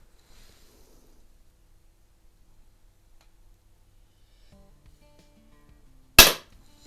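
A single sharp shot from an Artemis LP400 single-stroke pneumatic .177 air pistol, a loud close crack near the end after several seconds of near silence and faint handling noise.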